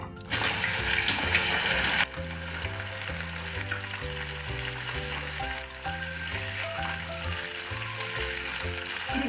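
Okra hitting hot oil in a pan on the stove makes a loud, dense sizzle for the first two seconds, then settles into a steady frying hiss under background music.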